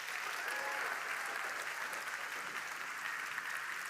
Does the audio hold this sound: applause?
yes